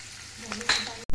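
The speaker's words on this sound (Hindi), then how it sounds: "200 ग्राम पनीर हमने लिया था और छोटे क्यूब्स में इसे काट लिया था। इसे हम बिल्कुल लाइट फ्राई कर रहे हैं।" Small paneer cubes lightly frying in oil make a soft close sizzle with a couple of brief utensil clicks, then end in a short louder burst, all within about a second.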